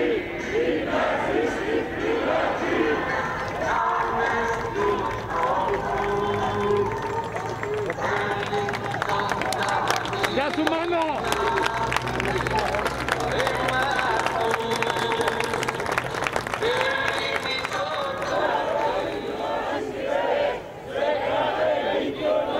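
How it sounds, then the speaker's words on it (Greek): A large antifascist protest crowd gathered for a court verdict greets a murdered man's mother with applause and chanted slogans, a dense, continuous roar of voices and clapping that holds steady throughout. "Φίσα, μητέρα του δολοφονημένου Παύλου Φίσα, έγινε δεκτή με χειροκροτήματα και αντιφασιστικά συνθήματα."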